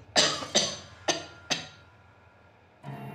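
A man coughs four times in quick, sharp bursts after choking, each cough loud and close, then a short pause before a fainter sound at the end.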